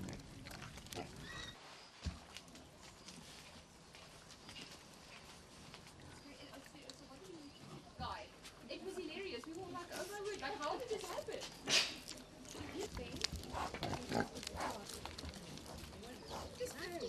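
Pigs at an animal refuge grunt and snuffle in a busy, uneven stream, close by, with scattered thumps and movement and a voice talking faintly underneath.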